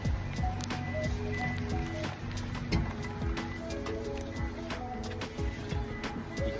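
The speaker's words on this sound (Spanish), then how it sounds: "Y que no deje de llover, que siga lloviendo" Rain falls steadily through a grey, chilly morning, a dense continuous patter with scattered heavier drips and splashes close by, running the whole time with no one talking over it.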